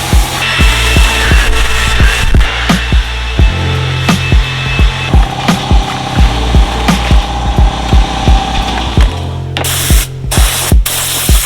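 Scotch-Brite pads and sandpaper scour the primed and guide-coated body panels of a Mazda RX7. The abrasive scrubbing is loud, close and continuous, with frequent sharp scraping strokes and ticks throughout.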